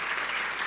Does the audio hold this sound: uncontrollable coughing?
no